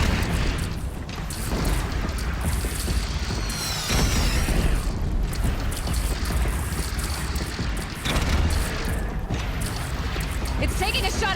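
Cannon fire and explosions in a combat video game set in Horizon Zero Dawn, booming bursts over a dense, continuous battle din, with voices shouting throughout.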